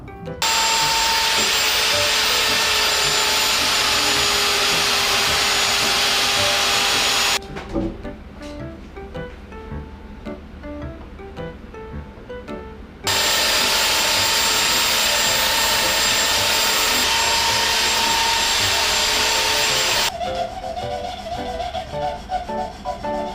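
A tool shaves a wooden part flat during a Yamaha grand piano overhaul, two long, loud grinding bursts of abrasive rasping, separated and followed by quieter stretches of light clicks and handling.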